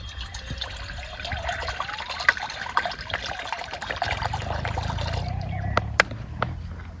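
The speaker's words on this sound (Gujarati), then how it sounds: "તો આ છે પાણી, તો આપણે હવે પાણી નાખી છીએ।" Water pours into a pot for cooking masala Maggi noodles outdoors in a farm field: a continuous close trickle and splash with a few sharp clinks, growing fuller and deeper toward the end.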